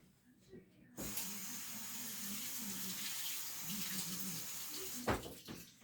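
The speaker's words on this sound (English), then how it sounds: "organic celery hearts. So I'm going to take one of these. I'm going to wash it really well." Organic celery hearts being washed under a running kitchen tap, the water switching on abruptly and gushing steadily for about four seconds before cutting off, with faint handling noise around it.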